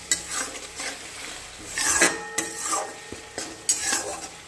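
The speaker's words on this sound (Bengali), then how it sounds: "তো চলো হলুদটা দিয়ে ভালো করে একটু নাড়াচাড়াটা করে নিই।" A spoon scrapes and clatters around a pan as turmeric is stirred into hot oil, with irregular bursts of metallic scraping and a soft sizzle underneath.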